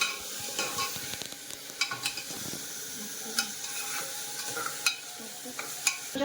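Chopped onion sizzles steadily in a frying pan as it browns, with a dense frying hiss and occasional scraping stirs of a utensil, close and moderately loud, no talking.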